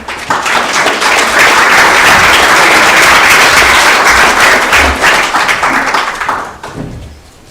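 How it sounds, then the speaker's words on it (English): Loud, sustained clapping from a seminar audience welcoming a speaker, dense and even throughout before tapering off at the close. "please welcome Dr. Veli-Pekka Tynkkynen with a round of applause"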